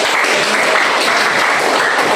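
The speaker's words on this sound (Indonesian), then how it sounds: "Beri tepuk tangan buat" Students in a classroom give a burst of brisk, close clapping that stays loud and even from start to finish.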